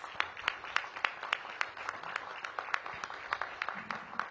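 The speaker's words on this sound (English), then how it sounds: "Please give her a big round of applause." A small audience at a police chief announcement applauds for a council member, with distinct individual claps popping out in an uneven rhythm over softer clapping, fairly close and moderately loud.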